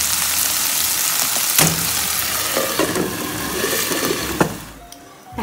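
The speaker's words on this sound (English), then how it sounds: "I'll also let my carrots simmer for about a minute or two" Carrots for chicken fried rice sizzle in a pan with a constant, close hiss and a few sharp clinks and scrapes of a utensil stirring, with no talk.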